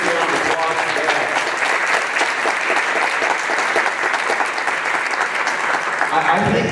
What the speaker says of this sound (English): So if we can give Reese a big round of applause for that.